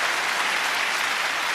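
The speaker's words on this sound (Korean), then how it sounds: "박수 쳐요." Applause from a congregation at a Korean-language Christian prayer meeting, a steady dense wash of many hands clapping at full volume throughout, with no pauses and no talk over it.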